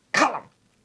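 A person imitating Gollum's cough from Lord of the Rings gives one short, harsh, throaty hack, loud and close, followed by a brief silence and the start of a second.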